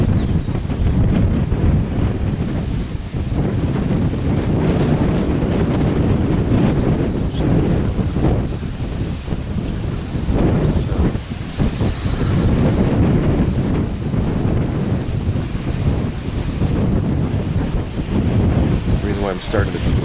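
Steady wind rushes against the microphone over a low rumble of ocean surf at a resort beach, continuous and fairly loud with no clear breaks.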